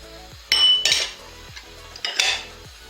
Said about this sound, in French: je vais additionner les champignons. Agora vou adicionar os cogumelos, os tomates e l'ananas.